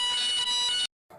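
Electronic fire alarm from a Christmas Google Doodle animation sounds a loud, steady, high-pitched tone for under a second, cuts out briefly, then resumes more faintly.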